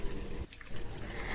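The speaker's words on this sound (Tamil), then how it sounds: "இப்போ இதை நம்ம தண்ணி விட்டு அலசிடலாம்." Tap water runs over minced mutton being rinsed in a kitchen, a short steady splashing stream with a brief dip midway.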